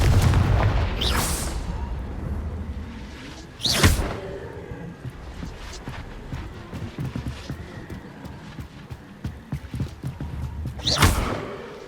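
Confringo blasting spells explode in the Hogwarts Legacy video game, three sharp bursts spaced several seconds apart with thuds and rumble between them.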